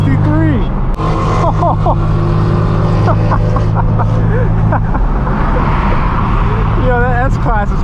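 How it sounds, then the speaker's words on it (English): A Mercedes-AMG S63 roars past in city traffic, its exhaust rising loud and close among other engines, while people talk excitedly over it. "That's an AMG, listen to that. Oh my god. Listen to that S63."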